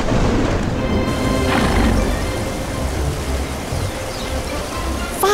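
Steady rain hisses and patters continuously throughout, with low rumbling underneath and no voices.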